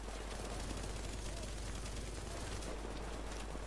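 Automatic sentry turrets in the video game The Division fire in a dense, continuous barrage that stays loud and saturated for the whole stretch, with no clear gaps.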